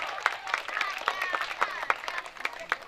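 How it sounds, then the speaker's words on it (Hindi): Audience at a school annual day clapping, a brisk scattered applause of many hands with uneven rhythm, moderately close, under a few crowd voices. "तालियां बजाते रहिए।"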